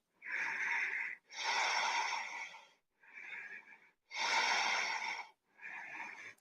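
Deep, slow breaths drawn in and out during a yoga pose at a sunrise practice, five long rushing inhales and exhales close to the ear with brief pauses between, no talking.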